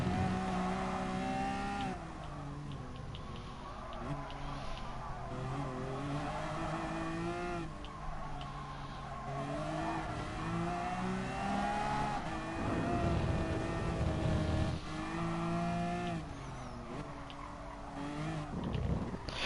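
Formula 1 race cars, McLarens among them, in the racing game F1 2010, with engines droning and revving steadily through the whole stretch and pitch rising and falling as the cars accelerate and shift.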